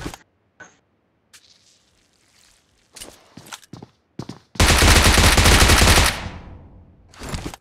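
Bursts of automatic gunfire from the BGMI mobile battle royale game. Scattered single shots and clicks lead into a loud, sustained volley lasting over a second, then a fading tail and a final short burst, with no talking.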